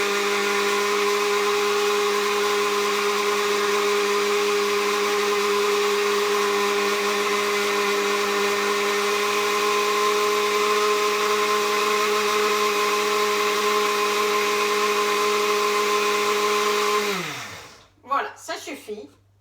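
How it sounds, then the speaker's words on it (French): A kitchen blender runs steadily for about seventeen seconds, a loud whirring motor with a strong harmonic whine, mixing paper pulp for homemade paper, then spins down, followed by a few soft clatters. "maman va passer tout ça au mixeur de manière à ce que ce soit vraiment bien mélangé"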